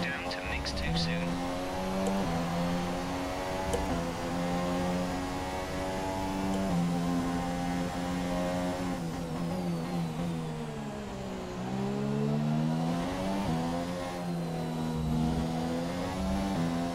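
F1 race car engines in the F1 2017 video game whine at high pitch, climbing and dipping with gear changes and throttle, heard close and loud under a radio voice.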